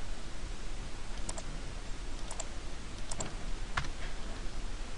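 A computer mouse gives a few sparse, light clicks, spaced seconds apart over a constant hiss, with no one talking.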